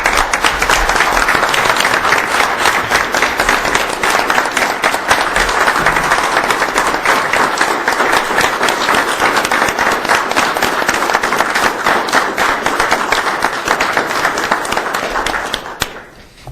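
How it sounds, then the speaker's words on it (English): A crowd claps steadily and loudly for about fifteen seconds at a village board meeting, then the applause tapers off at the end. "a round of applause, I think, for Tick before we adjourn."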